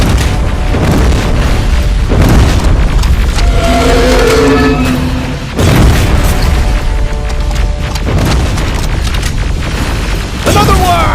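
Rockets exploding in the shooter game Terminator: Resistance, several heavy booming blasts with rumbling tails at irregular intervals, loud and close, mixed with game effects and shouted voices.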